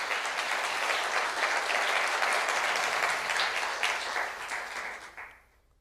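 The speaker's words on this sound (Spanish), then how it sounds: "Un aplauso para el Señor." A church congregation applauds during a sermon, dense steady clapping from a crowd filling the space at fairly loud level, fading out over the last second with no voices over it.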